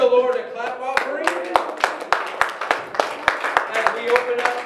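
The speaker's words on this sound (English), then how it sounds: "Let's give the Lord a clap offering." Church congregation clapping in a steady rhythm during a Sunday service, sharp hand claps about three per second with singing or voices running underneath.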